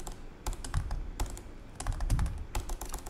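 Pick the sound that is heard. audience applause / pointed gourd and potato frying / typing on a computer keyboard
typing on a computer keyboard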